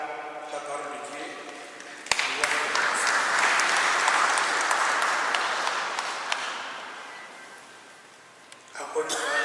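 A congregation at a funeral Mass breaks into sustained, dense applause after the Gospel reading, filling the church for several seconds before fading, with a voice speaking just before and after.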